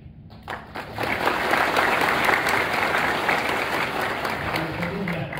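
Audience applause welcomes guests of honour at a formal event, starting after a brief quieter moment and swelling into a sustained, dense clapping from a large crowd that holds steady to the end.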